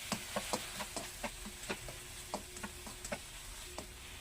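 Diced chicken filling with pepper and sugar being stir-fried, a soft background sizzle punctuated by a regular run of light spatula taps against the wok.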